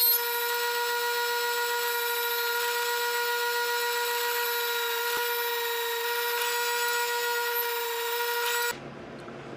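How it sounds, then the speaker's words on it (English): A pen blank being drilled with a 3/8 inch bit for a bolt action pen kit; a steady high-pitched machine whine holds loud and even for about nine seconds, then cuts off abruptly. "Put the 3/8 inch bit in for the bolt action kit."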